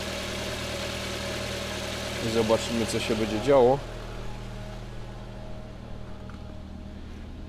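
Car engine idling steadily after an oil, oil filter and radiator change, a low even drone, close and continuous, with someone talking briefly over it partway through.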